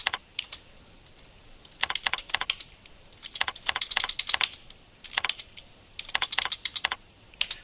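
Rapid bursts of keystrokes on a computer keyboard while filling in sales rep targets and percentages in point-of-sale software, clicking in irregular clusters with short pauses between, close and clear with no talking.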